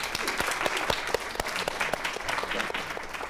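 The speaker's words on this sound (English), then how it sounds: "Can we get a round of applause for Jim, please?" An audience at a panel event applauds a guest, with a brief burst of many hands clapping and a few sharp individual claps standing out near the front.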